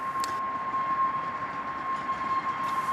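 Modern narrow-gauge steam locomotive with roller bearings on a tourist railway in the Forest of Dean, heard as a steady rumbling run with a faint clattering rhythm and a thin sustained whistle-like tone, fairly close and constant throughout.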